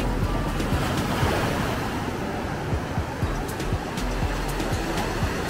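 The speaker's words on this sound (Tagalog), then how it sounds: "Grabe, yung lakas ng alon dito oh." Strong ocean waves breaking at Pererenan Beach, Bali: a steady, loud roar of surf with rolling low rumble and wind buffeting the microphone, continuous throughout with no talk.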